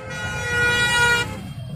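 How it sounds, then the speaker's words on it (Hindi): Heavy road traffic on a foggy rainy-season road, with a steady horn tone sounding for about a second over a low engine rumble, followed by the continuing hum of passing vehicles. "काफी ज्यादा ट्रैफिक चल रहा है इस वक्त"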